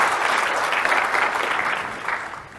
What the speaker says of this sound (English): Please, applause for David